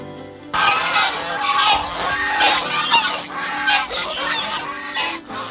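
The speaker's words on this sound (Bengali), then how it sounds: "রাজহাঁস বসে আছে।" Geese by a pond at an eco-tourism resort in Belpahari give loud, close, overlapping honks and cackles that carry on continuously.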